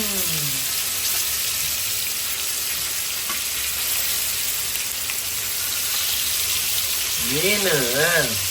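Fish fries in a pan for a home-style fish curry, giving a constant loud sizzling hiss with faint scrapes as it is flipped; a wavering tonal sound rises near the end.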